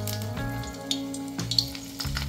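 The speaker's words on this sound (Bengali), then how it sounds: "তেল ভালোভাবে গরম হলে বড়াগুলো তেলেতে ছেড়ে দিতে হবে" Drumstick flower fritters fry in hot mustard oil with a steady, moderate sizzle and a few small pops, over a low humming tone, with no talking.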